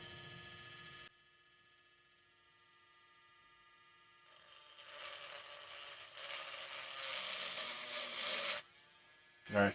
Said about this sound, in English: I'm only going to drill one hole